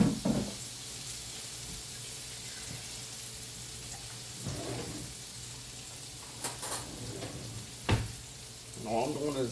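Pork chops searing in a hot pan give off a soft, steady sizzle. Occasional louder scrapes and clatters break in, and a voice is briefly heard near the end.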